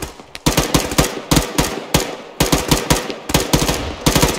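Repeated bursts of machine gun fire in the ArmA military game, about seven short volleys in a steady rhythm, loud and close, with no talk over them.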